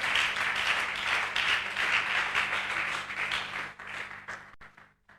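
A church congregation at an evangelists' seminar applauds in a dense, steady burst of clapping that thins out and fades near the end.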